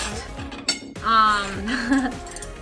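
A metal fork and spoon clink against a plate of spinach pasta, a few sharp ringing taps and scrapes close up, with a voice heard briefly alongside.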